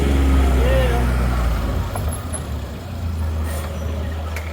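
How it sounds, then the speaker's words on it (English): Heavy vehicle engine rumbling loudly nearby in the stone alleyway at Jaffa Gate, then easing off as it moves past, with a steady low drone throughout. "These are the kind of vehicles that can come rushing through those alleyways, trying to run you over."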